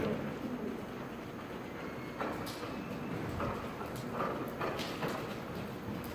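A horse's hooves thud at a canter in a riding arena, a muffled three-beat rhythm repeating steadily over a broad background rumble, no talking.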